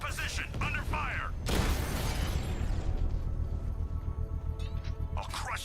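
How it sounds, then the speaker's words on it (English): A bomb is detonated in a controlled explosion in the video game Batman: Arkham Knight: a sudden loud burst and rumbling blast that decays over a few seconds, with game voices and mechanical sounds before it. "Controlled explosion successful, sir. That bomb is no longer a threat."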